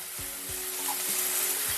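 Stalk curry frying in mustard oil in a kadai on a home kitchen stove, a brief, steady sizzle with a low background hum and a few soft knocks.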